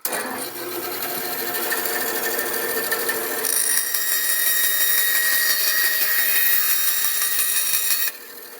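A bandsaw running with its steady mechanical whine and hum, the pitch shifting and growing louder as it cuts through a wooden board, then dropping back as the cut ends.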